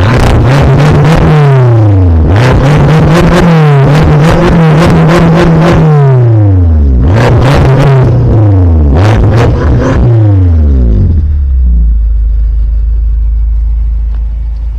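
A BMW M5 Competition heard from behind as its engine and exhaust rev hard through repeated rising pulls with gear changes, loud and close, then it settles into a deep, steady rumble.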